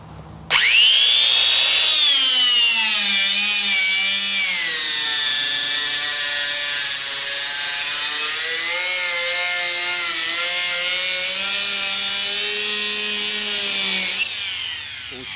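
An old cutoff tool slices through material with a loud, high-pitched whine that holds steady for about fourteen seconds before spinning down. No one speaks.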